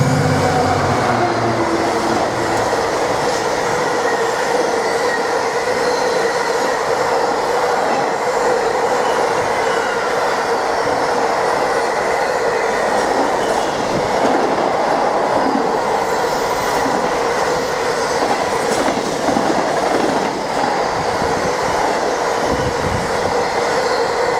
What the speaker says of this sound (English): The locomotive hauling that train was the DB Cargo Class 66 in its iconic green I'm a Climate Hero livery